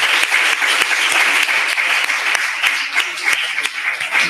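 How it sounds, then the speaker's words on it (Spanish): An audience gives a speaker a steady round of applause at a talk. Dense, continuous clapping fills the room for several seconds at an even, lively intensity. "Y ahora sí te vamos a dar un aplauso"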